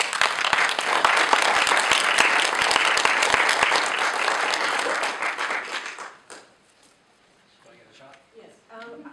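An audience at a public meeting claps loudly and steadily for about six seconds. The applause then dies away into quiet, and a voice begins speaking faintly.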